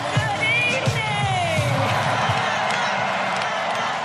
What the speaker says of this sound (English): Thousands of Democrats dancing and cheering to mark this moment in history.